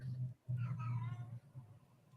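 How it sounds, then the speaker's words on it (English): A cat gives a single drawn-out meow, close by, over a steady low electrical hum. "Is that your cat, Jim?"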